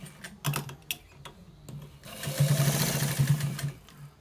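A sewing machine stitches a white trouser from the bottom up toward the top, running in short stop-start bursts at first and then settling into a steadier, louder whir for the second half.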